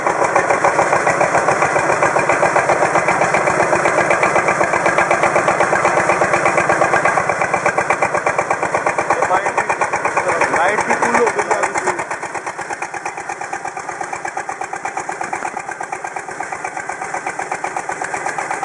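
A 7.5 kW three-phase generator set driven by a biogas-fuelled engine runs steadily and loudly, its dense mechanical hum holding throughout with a slight drop in level partway through, under continuous talk.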